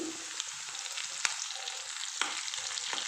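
Curry leaves fry in hot oil while shavige upma is cooked, giving a steady soft sizzle with a few sharp crackles and pops, close and fairly quiet, with no voices.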